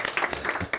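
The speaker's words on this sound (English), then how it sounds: "You deserve the applause." Short burst of applause at a watercolour artist workshop, close clapping with uneven sharp hits and a faint voice mixed in.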